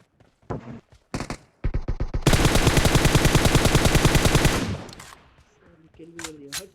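Automatic weapon fire in the mobile battle royale game PUBG Mobile, a few short bursts followed by a long sustained loud rattle of rapid shots, then fading, with a voice talking briefly near the end.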